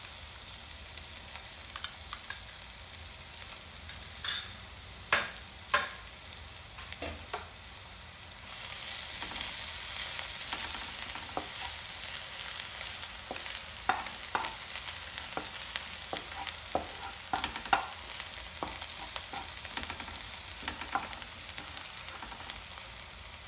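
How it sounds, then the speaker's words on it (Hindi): Garlic fries in hot oil for a mushroom and spinach filling, a steady faint hiss that thickens into a fuller sizzle partway through, scattered with small ticks and scrapes of stirring. "जब थोड़ा सा गर्म हो जाएगा तो हम इसमें सबसे पहले ऐड करेंगे गार्लिक"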